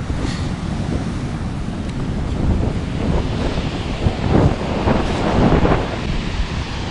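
Huge storm waves crash and surge at Lantic Bay, a continuous roaring wash of surf buffeted by heavy wind noise on the microphone, with bigger breaking impacts swelling midway.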